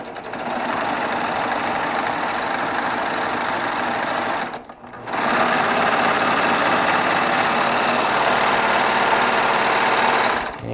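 A Baby Lock Triumph serger stitching decorative thread runs at a fast, loud, steady mechanical whir. It pauses briefly midway, then starts again and runs on close up without any voices.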